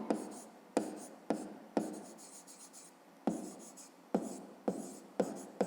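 A pen scratches across paper in short, repeated strokes with sharp onsets, close and fairly quiet, each stroke fading before the next, while someone works through a fifth-grade maths exercise.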